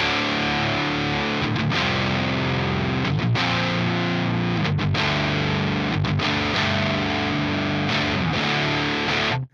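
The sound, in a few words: bass through distortion pedal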